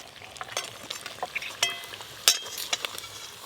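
Dhakai paratha fries in oil in a pan with a soft steady sizzle, broken by scattered spatula scrapes and a couple of sharp metallic clinks, close and fairly quiet.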